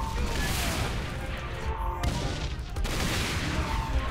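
Dense, continuous gunfire fills a Saints Row IV shootout, a steady roar of rapid shots and crashing impacts with no clear gaps, close and loud throughout.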